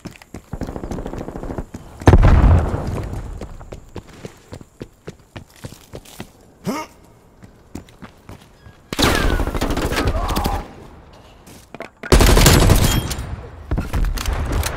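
Gunfire and a grenade blast in Call of Duty Black Ops Cold War team deathmatch on the Diesel map, with loud bursts of automatic fire and sharp shots separated by quieter stretches and footsteps.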